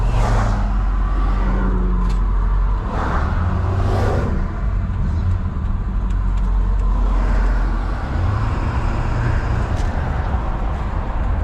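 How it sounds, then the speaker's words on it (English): Ford 7.3 Powerstroke diesel truck rolling along while towing an empty trailer, a steady low engine drone with road noise that holds loud and close throughout, rising slightly near the end. "So far the truck's done fine with an empty trailer, as you would imagine."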